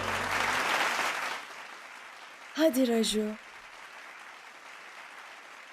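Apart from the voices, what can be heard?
audience applause for Mr. Raju's performance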